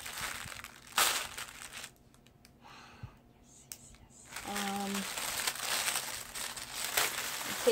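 Scissors or a blade cut open the delivery package holding an IBM Model M keyboard, with crinkly crushing and rustling of packaging material close by, in uneven bursts separated by quieter gaps.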